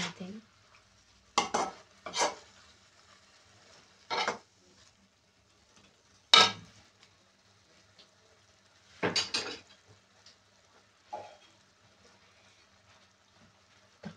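Igado of beef and liver is stirred in a pot. Scattered scrapes and clinks of the spoon against the metal come in short separate strokes over a faint simmer, with long quiet gaps between them.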